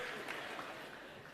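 Audience applause at a spiritual discourse gathering, a steady dense patter of many hands clapping at moderate distance, continuous for the whole moment without any voices.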